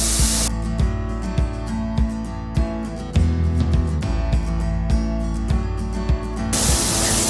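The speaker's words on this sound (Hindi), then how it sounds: "सबसे पहले मैं 50 ग्राम बटर ऐड करूँगी पैन में और इसको लो फ्लेम पे मैं इसको मेल्ट करूँगी" Fifty grams of butter hisses and sizzles steadily in a pan over a low flame, a bright continuous spray-like crackle with small pops, loud and close.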